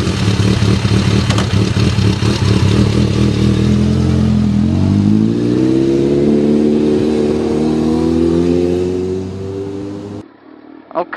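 A motorcycle with tires filled with Ride-On sealant runs loud and close, its engine chugging then revving and pulling up in pitch before cutting off abruptly near the end.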